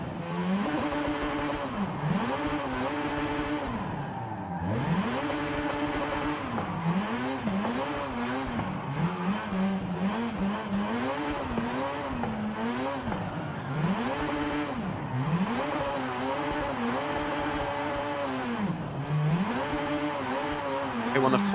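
A rear-wheel-drive car drifts with left-foot braking in Forza Horizon, its engine revving up and down in repeated swells alongside tire noise, loud and continuous throughout with no talk.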